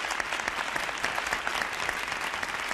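A studio audience applauds a radio host on a 1976 television entertainment show, a dense, even clatter of many hands throughout, fairly quiet in level.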